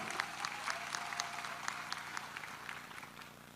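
Audience applause at a young national entrepreneurs' declaration of support event, a steady wash of many hands clapping throughout, moderately loud and continuous with no speech over it.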